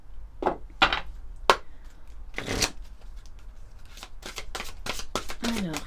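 Oracle cards being shuffled close by: a series of sharp riffling bursts, several quick ones then a longer run, crisp and fairly loud, with a voice talking between them.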